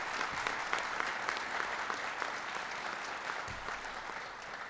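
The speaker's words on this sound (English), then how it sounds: "So give Heather a big round of applause." Applause for a nominee at a December jobs report event, a soft, distant wash of many hands clapping, even and sustained with no voices over it.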